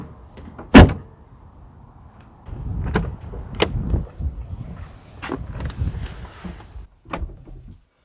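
Hood of a 2020 Mercedes GLS 400d diesel SUV being shut, one sharp loud slam near the start, followed by softer knocks, shuffling and handling sounds around the car.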